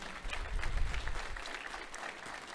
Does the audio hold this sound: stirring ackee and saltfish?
no